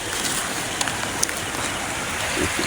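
Steady broadband hiss of rain falling, continuous and fairly loud, with a few brief drip-like clicks and no voices.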